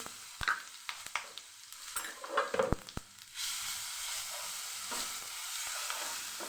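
Ginger, chilli and garlic paste sizzles and fries steadily in a hot pan with cumin, asafoetida and turmeric, with a few clinks and stirring knocks of a spoon against the pan early on before a continuous close sizzle.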